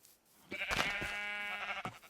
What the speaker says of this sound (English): I see some sheep.